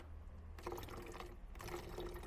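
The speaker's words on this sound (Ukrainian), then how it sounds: "І наливаємо приблизно 3-4 см на саме дно." Drinking water poured into a bottle to fill just the bottom few centimetres, a steady splashing, gurgling pour in two short bursts close by with no talk.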